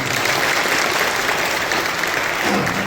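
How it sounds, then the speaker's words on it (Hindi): A church congregation claps loudly and steadily for several seconds, a dense wash of applause from many hands with no pauses and no speech over it. "एक बार जोर से ताली बजा दीजिए।"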